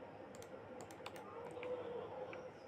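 Keystrokes on a computer keyboard during AutoCAD beam detailing, a handful of light clicks spread across the clip with a final press of the enter key, close and fairly quiet over a steady low background hum.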